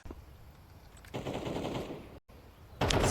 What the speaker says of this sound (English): Clean first headshot, jumping dual Berettas